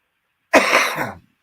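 One loud, close cough bursts out alone, rough and breathy, lasting under a second before silence.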